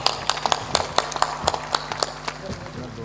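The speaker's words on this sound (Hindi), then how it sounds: "ताली बजा दीजिए।" An audience claps in regular, sharp bursts at a live religious gathering in Soyatkalan, Agar Malwa, Madhya Pradesh, steady and moderately close for about three seconds.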